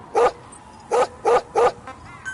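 A dog in Metal Gear Solid V: The Phantom Pain barks four times, one then a tight trio, each short, loud and close, with quiet gaps between.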